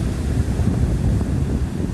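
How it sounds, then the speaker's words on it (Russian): Strong sea waves surging on the Turkish coast, a dense, loud, continuous roar of surf and churning water with wind buffeting the microphone throughout, no voices. "Там, где сейчас бежит волна"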